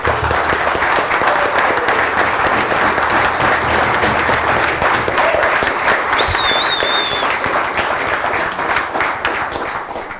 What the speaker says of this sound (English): they deserve a token, at least, in a huge round of applause for all of those